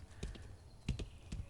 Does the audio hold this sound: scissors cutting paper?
no